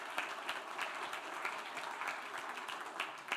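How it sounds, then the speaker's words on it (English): Applause for a group of students and their two leaders at a school board meeting, a steady wash of clapping from a modest crowd, fairly faint and continuous. "Let's give them a round of applause."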